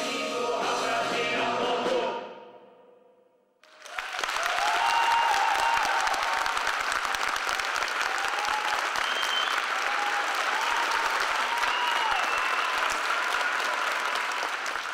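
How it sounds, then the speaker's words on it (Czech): Standing ovation from a theatre audience after the finale of a staged production, heard as a vigorous, continuous mass of clapping that swells in after a quieter passage and holds loud and steady, with scattered cheers and shouts above it. "Napětí, které s posledními tóny inscenace doslova explodovalo v bouřlivý aplaus a skandovaný potlesk ve stoje."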